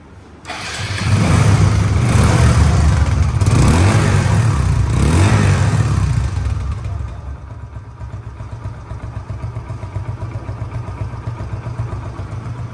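A Hero Ignitor 125cc motorcycle engine starts and runs loudly and close for several seconds, then settles into a steady idle with no talk.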